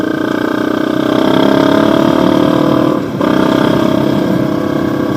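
An XR250 motorcycle engine revs hard and close during wheelies, holding a loud, steady high-rpm drone, then dipping briefly before surging back up.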